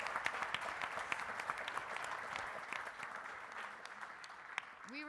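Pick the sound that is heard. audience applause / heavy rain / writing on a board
audience applause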